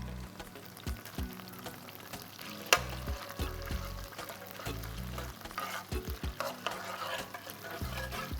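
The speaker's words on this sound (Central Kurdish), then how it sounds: "ئەو مەعجون تەماتەی سوور دەکەینەوە لەگەڵ ئەو ڕوونەی." Tomato paste being stirred and fried in hot oil in a pan, with a steady sizzle and repeated scraping spoon strokes, one sharp clink, close and fairly loud with no talk.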